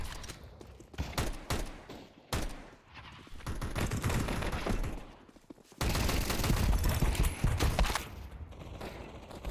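Shotgun and sniper gunfire in a video game, rendered as dense bursts of shots that pause briefly and then resume even louder, with an overlapping barrage near the end and no voices.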